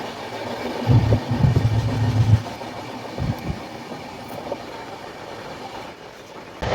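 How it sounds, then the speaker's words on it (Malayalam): A passenger train pulls out of Maramjhiri station in rural Madhya Pradesh. Its low rumble swells early, then settles into a steady rolling drone on the rails, with a few heavier wheel knocks partway through. "മരംചിരി എന്ന് പറഞ്ഞ സ്റ്റേഷനിൽ നിന്നും ട്രെയിൻ പുറപ്പെട്ടിരിക്കുവാണ്"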